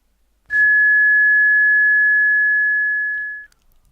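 A pure, steady high-pitched tone, the ringing-ears effect after an RPG weapon is fired in a video game, sounds alone and loud for about three seconds after a brief burst at onset, then cuts off.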